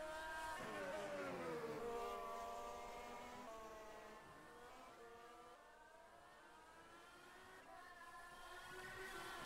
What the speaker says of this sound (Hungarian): Hogy de rossz hangja volt hirtelen valamelyik autónak.